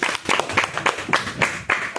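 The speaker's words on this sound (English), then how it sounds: "give yourself a round of applause" Students in a classroom clapping for themselves, a loud, rhythmic round of group claps in quick pulses, close and unaccompanied by speech.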